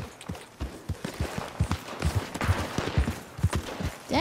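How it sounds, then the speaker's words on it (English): Gunshots crack in a distant gunfight in the video game Red Dead Redemption 2, a string of irregular sharp reports scattered across the stretch, with hoof-like thuds and a brief rising tone at the end. "Dang, there is a lot of gunshots."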